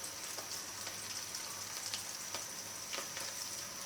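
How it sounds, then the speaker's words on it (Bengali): Oil heats in a frying pan on the stove, giving a steady close crackling sizzle with scattered sharper pops throughout and no voices. "আমি ফ্রাই প্যানে একটু তেল দিয়ে দিলাম"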